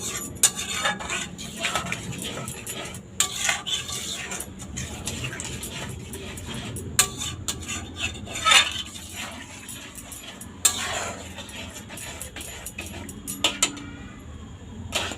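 Homemade tomato sauce with chili powder thickens in a pan as a metal spoon stirs it, giving intermittent clinks and scrapes against the pan over a low, steady background, with no talking.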